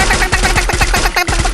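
Gunfire in the mobile battle game Free Fire, a rapid series of loud, punchy shots in quick succession with a brief break near the end, dense and continuous throughout.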